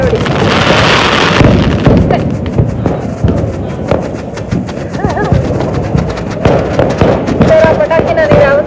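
Diwali firecrackers and fireworks go off in a dense, loud crackling burst, followed by scattered thumps and rising whistles while people talk nearby.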